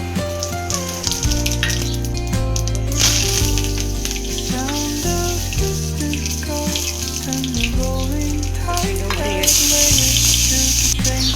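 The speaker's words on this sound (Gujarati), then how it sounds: "તો આપણે તેલ ગરમ થઈ ગયું છે તો એમાં આપણે રાઈ એડ કરી દઈશું." Mustard seeds and cumin sizzle in hot oil, a continuous crackling fry with steady hiss and clatter, rising louder near the end.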